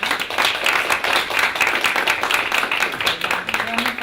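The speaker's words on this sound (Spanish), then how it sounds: "Le damos un fuerte aplauso para terminar." A crowd at an academic talk claps loudly, individual claps audible in a quick uneven rhythm, fairly close and sustained throughout.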